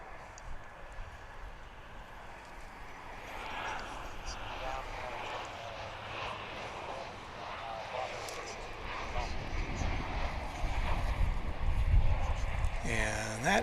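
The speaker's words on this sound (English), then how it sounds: "This is Alaska Airlines Flight 725 on its way to Seattle." Alaska Airlines airliner at DFW International Airport, its jet engine roar steady and building louder toward the end, with a voice talking over it throughout.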